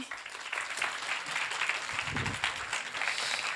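A conference room full of people applauds steadily at a closing plenary, a dense wash of clapping that continues throughout without letting up.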